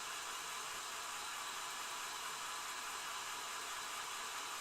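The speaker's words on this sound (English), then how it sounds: "let's just hit it with the hairdryer" A hair dryer blows on a painted old-school Ork Tinboy miniature, giving a continuous, even, loud airy roar that holds steady for the whole stretch with no talking.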